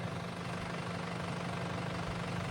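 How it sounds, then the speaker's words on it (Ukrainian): A tractor drags a Target cultivator through wet, sticky soil, its engine a steady low drone with a constant hum, slipping at times as it works the field. "Йде, да, буксує трактор місцями"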